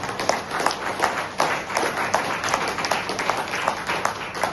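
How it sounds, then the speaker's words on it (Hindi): An audience at a health seminar keeps up strong applause, a sustained wash of many hands clapping, loud and fairly even with slight pulsing throughout. "क्या लग रहा है ये तालियां उनके लिए तो बजा रहे"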